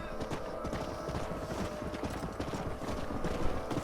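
Horse hooves clip-clop steadily in the video game Red Dead Redemption, a dense, continuous rhythm of close hoofbeats over a busy outdoor backdrop, with no talk.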